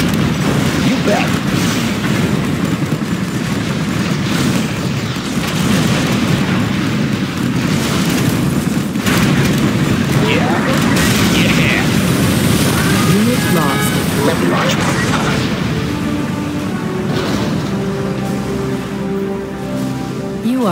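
Sci-fi particle cannon blasts rumble loudly in Command & Conquer Generals Zero Hour, a dense wall of booming explosions with layered game audio and voice lines running throughout.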